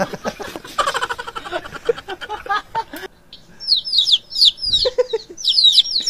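A small chick chirps in quick high peeps, loud and close, clustered in bursts in the second half after some rustling and thumping at the start.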